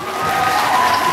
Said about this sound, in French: C'est beau, ça s'applaudit.